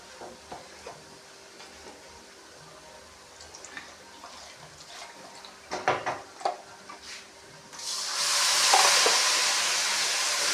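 Water poured into a hot, sizzling pan while cooking cauliflower sabzi, a sudden loud steaming hiss that surges and holds after a stretch of quieter clinks and kitchen sounds.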